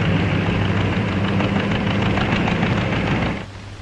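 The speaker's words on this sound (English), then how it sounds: "The diesel engine used in this tractor is similar to the gasoline engine, but lacks both a carburetor and an ignition system." A diesel tractor engine runs with a dense, steady low rumble and clatter at close range, holding constant before dropping off sharply near the end.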